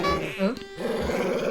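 A cartoon dog growls from behind a tree in short, rough, throaty bursts, fairly close, mixed with voice-like whining tones.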